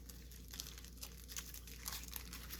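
A foil trading card pack wrapper from a 2023 Topps Universal Treasures box crinkles and tears close by. The sound is quiet, with scattered brittle crackles and small bursts over a low steady hum.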